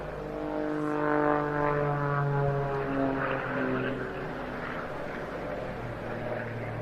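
Aerobatic display aircraft with enlarged elevators performing at the Jersey International Air Display, its propeller engine droning loudly overhead with a steady tone that rises and falls as it maneuvers; no voices.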